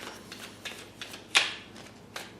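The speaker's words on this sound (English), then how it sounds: "I feel like the cards are just about done shuffling though." A deck of tarot cards is shuffled by hand in several quick riffling bursts with a sharper snap near the middle, close and soft, without speech.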